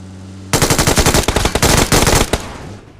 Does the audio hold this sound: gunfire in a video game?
yes